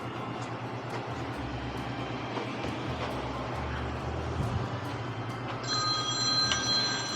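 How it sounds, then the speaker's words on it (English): A telephone rings in a workshop during an old Kenmore washer teardown, a faint electronic ringing near the end over a low steady background hum. "And I have a phone call."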